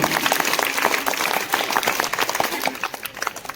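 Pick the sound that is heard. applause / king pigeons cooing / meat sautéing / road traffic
applause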